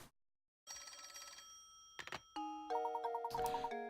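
In the Professor Layton and the Curious Village video game, a telephone rings with repeated bell-like tones, then rising chimed notes, clear and moderately quiet after a brief silent start.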